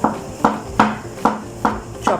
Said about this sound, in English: chopping garlics.